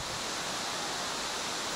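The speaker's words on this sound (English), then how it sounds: "This is the Norulong waterfall." Norulong waterfall in Jiuzhaigou, a broad steady roar of falling water, continuous and even, heard alone without voices.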